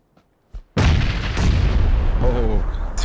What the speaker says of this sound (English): I threw a bomb on the right.